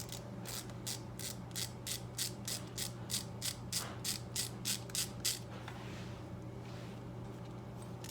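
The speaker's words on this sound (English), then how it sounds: "I haven't replaced this little ratchet yet," A small ratchet on a 1982 Suzuki GS1100 under restoration clicks close up in a quick, even series of about sixteen crisp ticks over a low steady hum, then falls quiet.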